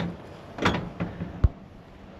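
The driver door of a 1989 Dodge D250 truck is shut. There are some close rustling and creaking movements, then a single short, solid thud.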